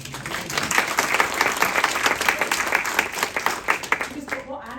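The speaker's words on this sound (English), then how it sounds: "applause for Anne" Audience applause for a speaker, steady and dense clapping with crowd murmur and voices mixed in, carrying on for several seconds before easing slightly at the end.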